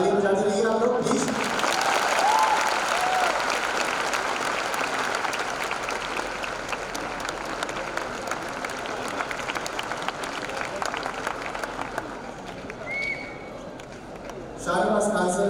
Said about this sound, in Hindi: ताली बजाते रहिए आप लोग प्लीज।